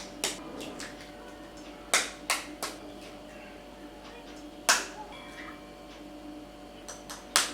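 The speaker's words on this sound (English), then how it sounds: "Crack the 4 eggs on the middle." Four eggs cracked one after another against a bowl or pan, each a sharp close tap or crack, separated by short pauses over a quiet kitchen background.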